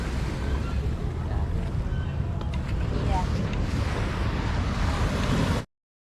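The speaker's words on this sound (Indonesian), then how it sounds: "Kita lagi di Pantai Akarena." Wind buffeting the microphone with a low roar of surf at Akkarena beach in Makassar, steady and rumbling throughout before cutting off abruptly, with faint voices mixed in.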